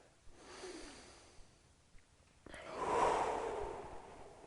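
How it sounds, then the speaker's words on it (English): Quiet, close breathing during a yoga back bend with a strap, a soft inhale followed by a longer, louder exhale that swells and fades, with small clicks in between. "One more breath."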